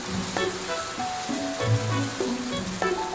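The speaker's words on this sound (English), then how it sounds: "Then add the minced garlic. Continue stirring evenly with the spatula." Minced garlic sizzles in a thick, rich simmering sauce while a spatula stirs it, giving a steady moderate crackle with a few soft scrapes and a faint tonal hum underneath.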